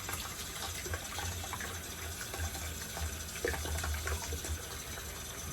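Tap water runs steadily into a sink while a Trac II safety razor is rinsed under the stream, a continuous close splashing hiss with small gurgles and no talking.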